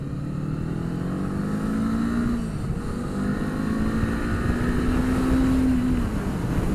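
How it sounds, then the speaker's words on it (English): Kawasaki Eliminator 450 motorcycle out on a ride, engine droning loud and close with rising and falling pitch as it shifts, wind noise over the steady exhaust. "I love the downshifting on this bike."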